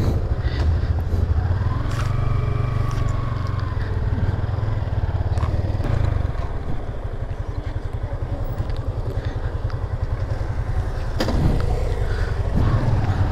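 Large motorcycles ride along a service road beside a smaller underbone bike, a steady close engine drone with scraping and rattling road noise, rising at times as the bikes pass.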